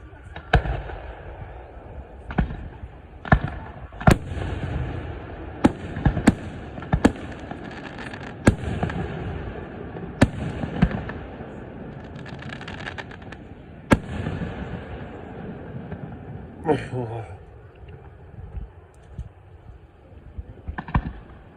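Fourth of July fireworks in Morristown, New York burst in repeated sharp bangs at irregular intervals, some near and loud, others softer and farther off, over a steady background rumble with a few crackling bursts.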